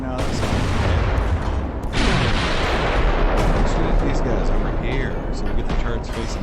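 Warship turret guns firing in the naval video game Ultimate Admiral: Dreadnoughts, loud booming salvos with a heavy blast near the two-second mark over rumbling battle noise.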